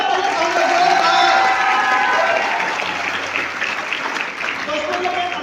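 A crowd at a business group's success-story gathering breaks into strong, sustained applause. The clapping is dense and close, with a few cheers mixed in, and it stays steady for the whole stretch.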